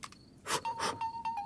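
A mobile phone ringtone plays a short, faint electronic tone that repeats in brief pulses, mixed with a few soft bursts of background noise.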